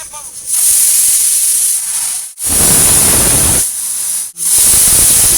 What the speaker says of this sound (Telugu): తక్కువ గ్యాస్ పెట్టుకొని ఒక 4-5 విజిల్స్ అయ్యేదాకా పెట్టండి